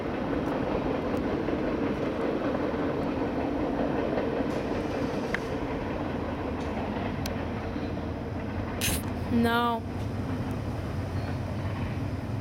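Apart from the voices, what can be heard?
freight train passing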